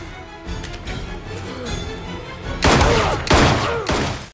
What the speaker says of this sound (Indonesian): Dewey dengan naluri polisi yang masih tajam langsung menembak Ghostface 3 kali